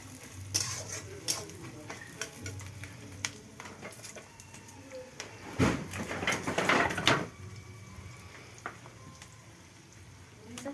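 Onions frying in oil in a pan over a wood fire for a Chinese duck curry, a soft crackling sizzle with scattered pops and a louder spattering burst midway, close up.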